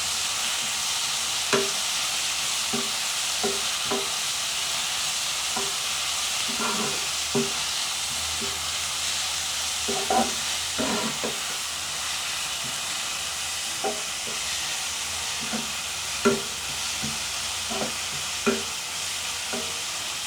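A chicken biryani masala mix sautés in a pan with a constant close frying hiss, while a spoon scrapes and knocks against the pan at irregular intervals.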